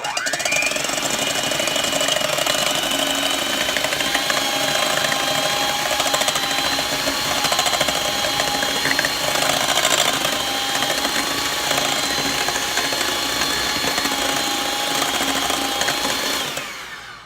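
An electric mixer whips eggs for cloud bread, a loud, continuous, close whirring drone that runs steadily for many seconds before winding down at the end.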